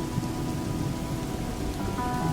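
Steady rain falls outdoors on a backpacking trip, a dense, even patter close by with no voices.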